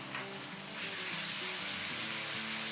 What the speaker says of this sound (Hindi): अब इसको हम अच्छे से भून लेंगे और ब्राउन नहीं करना है हमें इसे, बस 30 सेकंड तक भूनेंगे।